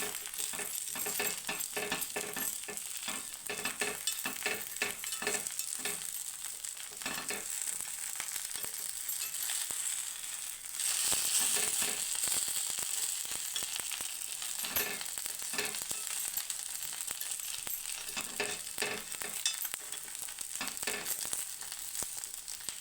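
Paddu fry in a pan with a continuous close sizzle, broken by frequent light clicks and scrapes as a spoon turns them.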